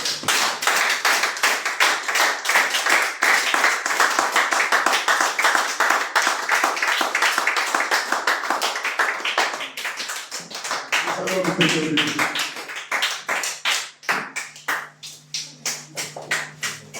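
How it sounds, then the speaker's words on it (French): Church congregation at a Sunday service clapping together in acclamation, a dense steady roll of hands for about ten seconds, with a voice rising over it before the clapping thins into scattered claps and a held musical tone. "Acclamons pour le Seigneur."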